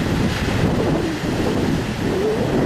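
Rain falling steadily outdoors, a dense continuous wash with wind buffeting the microphone, loud and close throughout.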